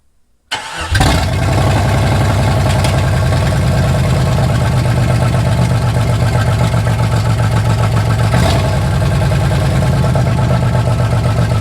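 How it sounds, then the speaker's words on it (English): A Jeep 4.0 L6 engine, freshly overhauled, cranks briefly and then catches, settling into a loud, steady idle that runs continuously to the end, close by with no voices. "Let's see if it starts now."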